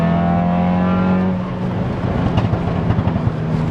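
A 460bhp hybrid-turbo Audi S1 pulls hard with a steady loud engine drone, then shifts and carries on with a rougher, pulsing note and a faint turbo whoosh, heard from close by.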